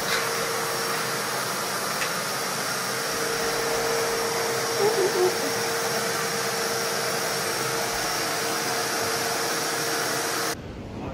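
A vacuum cleaner hoovers indoors in a tidied room, a loud steady motor roar running almost without pause before cutting off abruptly near the end.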